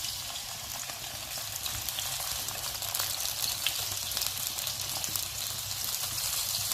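Cherry tomatoes fry in olive oil in a very hot pan, giving a continuous, dense sizzle with a low bubbling hiss underneath, close and even from start to end.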